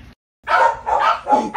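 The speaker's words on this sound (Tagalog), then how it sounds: "Tumatahol na sila. Tumatahol na sila." Several dogs bark in quick bursts close by at a Filipino family home, three or four loud yaps following a brief silence, with no talk over them.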